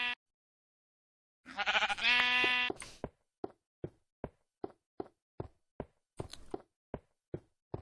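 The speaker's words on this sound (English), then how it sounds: "And there are sheep in here." Sheep in a video game bleat in a long, loud, wavering cry, followed by a steady series of short, evenly spaced knocks or taps with one more brief bleat among them.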